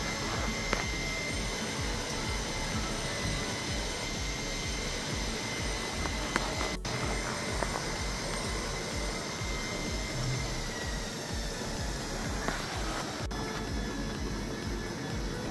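A piston ring for an RB25 engine is ground down by hand to set its end gap. A steady, continuous whirring grind runs the whole time, with a few faint clicks and no talking.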